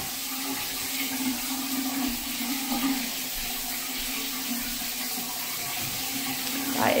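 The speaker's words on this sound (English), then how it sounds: "That is a shower." A shower runs in an empty apartment bathroom, a steady, even hiss of falling water that holds at a moderate level for the whole stretch with no voices.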